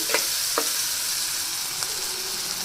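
Spices and ingredients for capsicum curry, including turmeric, frying in hot oil, a loud continuous sizzle with a few brief stirring clinks, close and alone.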